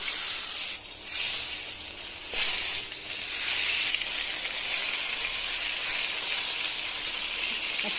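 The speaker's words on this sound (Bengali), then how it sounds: "বেগুন ভাজা," Eggplant slices coated with turmeric and salt fry in hot oil, giving a loud, close, continuous hissing sizzle with a few brief dips and swells, and no talking.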